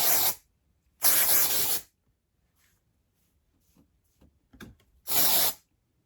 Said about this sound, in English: This is a dry shampoo. Let's give it a try.